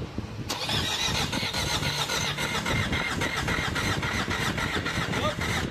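A Ford Everest engine cranks with a rapid, rhythmic chugging, loud and close, running steadily for several seconds.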